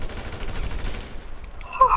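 Gunfire in the video game GTA V, a quick rattle of several shots in fast succession, then a brief pause and a sharper burst near the end, with no talk over it.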